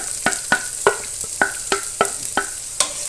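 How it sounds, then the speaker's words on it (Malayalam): Chopped onions frying with chilli, ginger and garlic for a fish curry, stirred with a spoon in a steady rhythm of about eight sharp scraping strokes over a bright sizzle, close and loud. "അപ്പോൾ ഒന്ന് ഇളക്കി കൊടുക്കണതാണ്"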